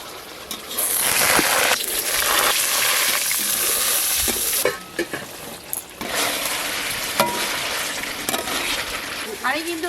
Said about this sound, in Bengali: তেল গরম হয়ে গেছে, বেগুন দিয়ে দেবো।